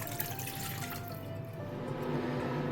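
Boiled, cooled water poured into a hair colour mixture, a steady close splashing trickle of liquid running for a few seconds without pause.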